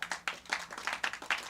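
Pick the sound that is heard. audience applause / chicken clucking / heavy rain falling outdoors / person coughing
audience applause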